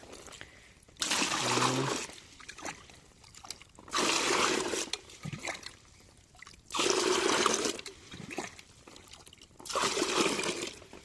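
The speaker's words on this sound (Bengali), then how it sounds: "চলো 5 ডাবা জল দিয়ে যাক 5 ট্যাঙ্কির জন্যে।" Water poured in four separate bursts into a pesticide sprayer tank for a bitter gourd field, each pour a splashing rush lasting about a second or two, with quiet pauses between.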